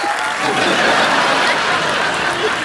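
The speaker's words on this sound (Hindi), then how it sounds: "हर्षवर्धन और संयमी के लिए जोरदार तालियां" Studio audience applause on a Hindi TV comedy talk show, a dense, steady wash of clapping that holds loud and even from start to finish, with no voices standing out.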